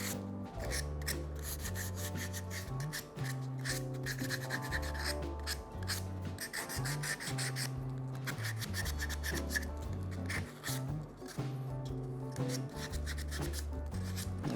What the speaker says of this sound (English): Do some sanding on it real quick here